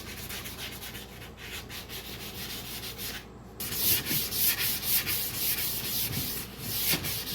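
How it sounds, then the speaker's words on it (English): Steady rhythmic rasp of sandpaper rubbed back and forth along a wooden axe handle, close and continuous, growing louder and more vigorous partway through, with no talk. "now that we got it sanded"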